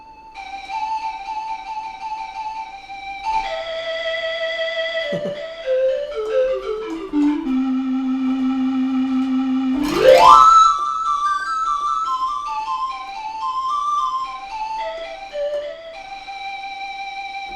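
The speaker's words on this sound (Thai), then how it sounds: "นี่คือเสียงสั่นนะครับ vibration เครื่องนี้ก็ทำได้นะครับ" A Pastel Siam Key electronic keyboard plays a wandering melody of sustained synthetic tones with a wavering vibrato, including a slow downward slide and a sudden swoop upward.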